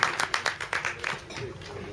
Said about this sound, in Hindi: तो जोरदार तालियां प्लीज धीरज जी के लिए।